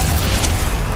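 Bombarda spell explosion in Hogwarts Legacy, a dense low booming blast that fills the whole moment with rumbling, noisy energy and no clear onset or decay.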